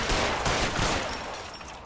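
Shotgun fire in L.A. Noire, a dense, continuous roar of overlapping gunfire and blasts filling the whole moment, loud and close, fading slightly toward the end.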